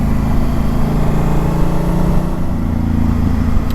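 Motorcycle riding along a road on a warm New Year's Day, with a steady, loud engine drone and wind rush throughout and no break in the sound.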